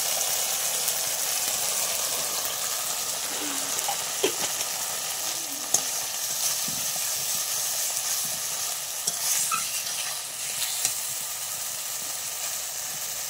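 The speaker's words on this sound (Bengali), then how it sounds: "আমি মশলার বাটি ধোয়া একটু জল দিয়ে দিচ্ছি" Water from rinsing a spice bowl hits spices frying in oil for a light rohu fish curry with potato and pointed gourd, giving a steady bright sizzle and hiss with scattered small pops and stirring scrapes.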